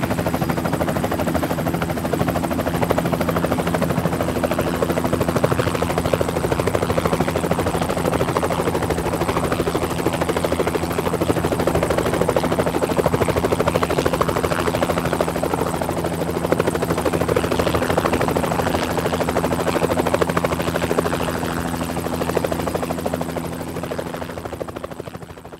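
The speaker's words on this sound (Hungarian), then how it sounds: "Nézd! Segít neki a helikopter is!" A cartoon helicopter flies overhead with a steady, loud rotor thrum and a whining engine hum. The noise holds constant for nearly half a minute, with no talk over it.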